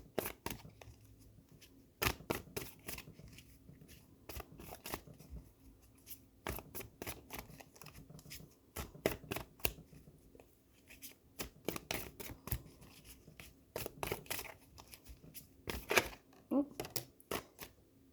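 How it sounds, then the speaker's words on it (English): Repeated crisp flicking and riffling of large oracle cards being shuffled, in irregular bursts, close up in a quiet room. "These cards are huge. It's definitely difficult to shuffle sometimes"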